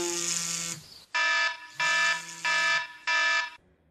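A morning alarm clock buzzes alone in loud, harsh electronic bursts: one long blare, then three shorter evenly spaced pulses, close and piercing.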